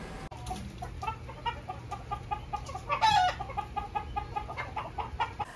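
A flock of broiler chickens clucks continuously, busy overlapping calls from many birds with a louder squawk partway through, in a reverberant indoor space.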